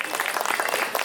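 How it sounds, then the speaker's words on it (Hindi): Audience at a food and culture festival talk session giving a round of applause, brisk, dense clapping close by, loud and continuous for about a second. "तो यहाँ पे बैठे सब लोगों के लिए एक ज़ोरदार ताली।"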